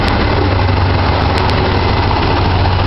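A deuce military truck with a Hercules multi-fuel engine idling, a steady low rumble heard close and loud, alone with no talking.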